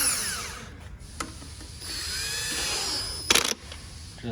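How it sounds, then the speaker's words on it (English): An impact gun fitted with a 10 mm socket snugging bolts on a 2019 Hyundai Veloster, with whirring tool runs, a brief sharp burst around the third second and quieter mechanical rattles between, no speech. "I'm gonna grab my 10, my trusty gun."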